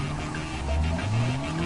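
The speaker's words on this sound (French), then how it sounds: "Les scènes les plus mémorables de la trilogie sont les courses-poursuites en voiture." A car roars through a chase scene from a Jason Bourne film, engine pitch sliding up and down with tire squeal, brief and moderately loud over a dense soundtrack mix.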